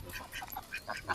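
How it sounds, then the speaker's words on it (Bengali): Domestic ducks quack several times near a village pond at a rural fair, short rasping calls coming in a loose irregular run over faint background bustle. "পাতি হাঁস"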